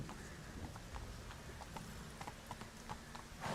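Hooves of Roach, a horse galloping in the video game The Witcher 3, a rapid, steady clip-clop rhythm at moderate distance over a low ambient bed, with a brief louder burst at the very end.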